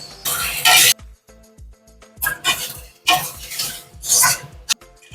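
Fried paneer tossed with cornflour water in a hot pan gives bursts of loud sizzling hiss, alternating with scraping and light clinks of a stirring spoon against the pan.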